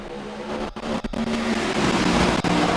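Race car engines roaring and accelerating as the field restarts to green at Texas in a racing video game, a dense, continuous loud drone that builds steadily.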